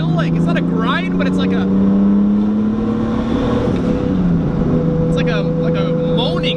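Steady, droning moan from a car's gearbox synchros, with sustained low tonal hums running through the whole stretch, close and fairly loud, while people talk over it.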